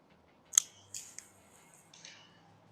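Scissors cut through a 3/8-inch marine grade anchor rope in a few sharp, close snips, one crisp cut followed by several softer ones against a quiet background.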